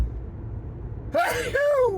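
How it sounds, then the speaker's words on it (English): A single sneeze bursts out after a second of quiet road rumble inside a moving vehicle on a mountain drive, sharp and close, with a breathy, voiced tail trailing off. "That was a sneeze"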